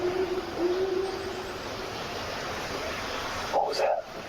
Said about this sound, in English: I think that was some kind of a bird